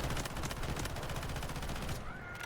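Rapid automatic gunfire from an assault rifle in the video game Delta Force, a dense continuous burst of loud shots up close that cuts off near the end.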